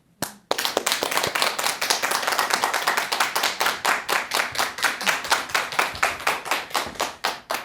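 An audience at a meditation lecture on wills and inheritance gives a round of thanks with rhythmic, even unison clapping, loud and steady for several seconds.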